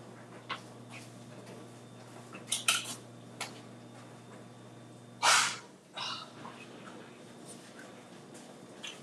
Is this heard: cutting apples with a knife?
yes